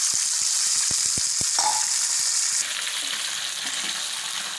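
Garlic and curry leaves fry in hot oil for a tomato pickle, giving a steady close sizzle with a few sharp pops and crackles early on. The sizzle eases slightly partway through and carries on with no one speaking.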